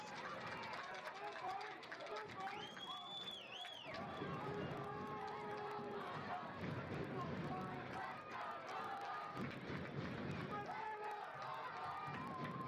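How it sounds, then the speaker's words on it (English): An animated crowd at a Louisiana high school varsity soccer playoff game at night, cheering and stirring as a steady background beneath close, continuous play-by-play commentary, with a brief whistle-like tone. "Very animated crowd here tonight."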